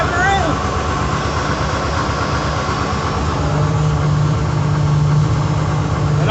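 Tractor engine running at a steady idle, a low throbbing rumble with faint tonal hum, close and continuous throughout.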